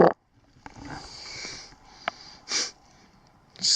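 Outdoors on a forest trail near Wood Lake on the Pacific Crest Trail, three quick, close, breathy sniffs come in separate bursts, with a quiet outdoor hush between them.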